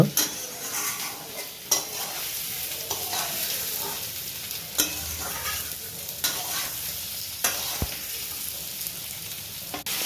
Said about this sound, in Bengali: তারপর সুন্দরভাবে মশলাটাকে ভালোভাবে কষিয়ে নিচ্ছে